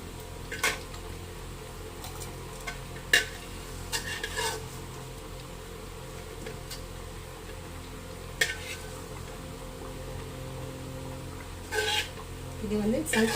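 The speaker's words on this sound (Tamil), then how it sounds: "மீன் குழம்பு நல்லா கொதிச்சுட்டு இருக்கு." Fish curry made with small Sankara fish simmers in a clay pot with a steady low bubbling hiss, broken by a few light clinks of utensils and occasional nearby handling sounds.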